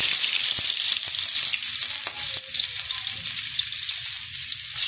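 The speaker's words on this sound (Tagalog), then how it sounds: "Lagay na rin natin yung ating sibuyas. Kaya mainit na." Onions sizzle in a hot pan for a mung bean and squash dish, giving a loud, bright, continuous hiss with a few faint clicks and taps mixed in, steady from start to finish with no voices.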